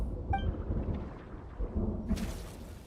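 Thunder and rain in the video game Genshin Impact: a low rumbling roll beneath steady rainfall, then a sharper crack near the end.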